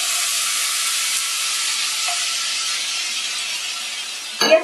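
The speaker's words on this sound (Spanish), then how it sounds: "En mi sartén tengo 2 cucharaditas de aceite que ya están precalentadas y a esto le voy a añadir media paquete de jamón" Sliced Oscar Mayer Deli Fresh smoked ham frying in two teaspoons of preheated oil in a skillet gives a steady, loud, continuous sizzle, with a brief clatter of stirring near the end.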